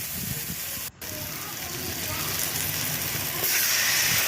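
Ingredients with turmeric sauté in a pan for thuthuvalai soup, giving a continuous close sizzle and hiss that grows slightly louder toward the end, with no talking over it.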